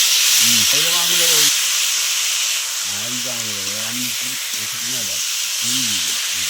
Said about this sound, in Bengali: তো চিকেনটা দিয়ে আমি মশলা কষে নেব।